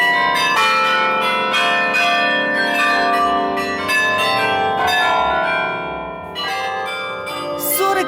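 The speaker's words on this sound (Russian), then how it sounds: "47 колоколов, одновременно звонящих" Forty-seven bells of the Bruges belfry carillon ringing together overhead, a loud, dense wash of overlapping bell strikes and long ringing tones, repeated clangs layered continuously throughout.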